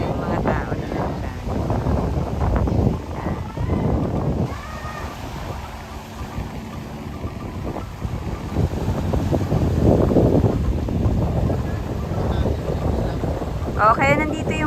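Gusty wind buffeting the microphone at the Boracay jetty port, a loud, continuous broadband roar that swells and eases, with people talking and crowd noise underneath.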